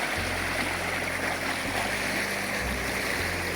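Steady rushing of a flowing taiga river, a constant broad wash of water with a faint low rumble underneath, no voices.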